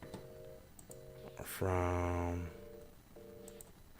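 A phone call placed through Google Hangouts: a few short dialing tones, then a louder sustained ringback-style tone, followed by more brief beeps, heard with only a faint word of talk.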